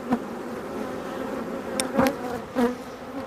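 A dense, steady hum of many honeybees buzzing close by in an open WBC hive, with a few louder passes as individual bees fly near.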